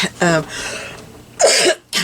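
A person coughs a few times in quick, harsh bursts, close up, with brief throat-clearing between.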